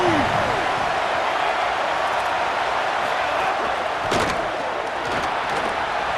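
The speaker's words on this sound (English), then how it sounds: "Decibels rising as the crowd gets behind this defense on 3rd down." A stadium crowd roars on third down in EA Sports College Football 27, a dense, loud, steady wall of noise with a few sharp thumps breaking through.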